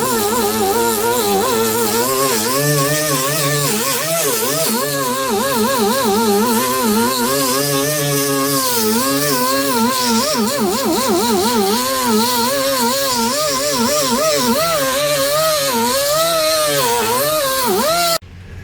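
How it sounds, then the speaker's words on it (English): Die grinder fitted with a 2-inch 36-grit roll lock disc grinding back body metal on the wheel arch of a 2012 Ford Escape, a loud continuous high whine with wavering pitch as pressure changes, close and steady, cutting off at the end. "got 36 grit on the die grinder with the 2-inch roll lock. I'm just going to grind this back"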